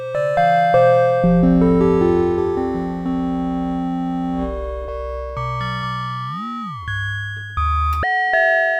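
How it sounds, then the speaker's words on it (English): A UDO Super Gemini synthesizer plays ring-modulated, clangorous bell tones: loud sustained metallic chords with shifting inharmonic overtones and a brief pitch swoop, changing several times over the passage. "Make those clangorous bell tones."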